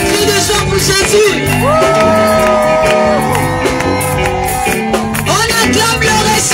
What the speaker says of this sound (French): On pousse des cris de joie pour Jésus.